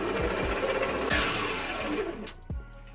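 An electric mixer churns red velvet cake batter on low speed after half the dry ingredients go in. A steady motor whir carries repeated soft thumps of the beaters, close and moderately loud, with no talk.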